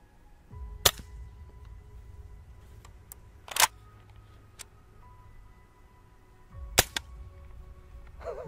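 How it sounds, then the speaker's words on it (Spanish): Suppressed gunshots fired with subsonic ammunition, three sharp, muffled cracks spaced a few seconds apart over a low, quiet background hum. "es obvio que nosotros percibimos el ruido de los disparos"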